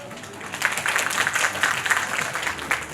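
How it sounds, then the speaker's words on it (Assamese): An audience claps at a makeup workshop, a moderate patter of hands that rises and falls in uneven bursts, somewhat distant, over a low room murmur. "এটা জোৰদাৰ হাত চাপৰি দি"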